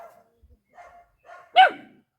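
Puppy from an abandoned house gives a sharp single bark near the end, preceded by a few soft whimpering yips, close and alone in a quiet room.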